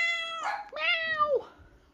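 A cat meows twice up close, a short cry followed by a longer, drawn-out meow that trails off.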